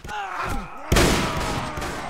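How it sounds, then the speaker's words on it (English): A single gunshot rings out in the video game Mount&Blade Warband, one sharp loud crack followed by a lingering rumbling tail. "This is a single shot."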